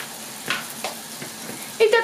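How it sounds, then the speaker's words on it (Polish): Meatballs fry in a pan with a faint steady sizzle, broken by a few soft scraping and stirring knocks, and a voice comes in near the end. "Obsmażamy nasze pulpety z jednej i z drugiej strony do takiego zarumienienia"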